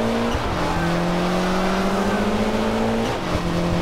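Rally cars race in the Sega Rally game on PSP, with a loud, steady droning engine whine that shifts pitch as the cars accelerate, plus tire squeal and skidding through tight corners.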